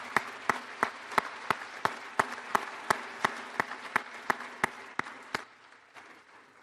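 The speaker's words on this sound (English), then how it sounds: "Please join me in giving the awesome class of 2021 a round of applause for their many achievements" Crowd applauding a high school class of 2021 at a graduation ceremony, heard as a steady run of sharp, regular claps about three per second that stops abruptly near the end.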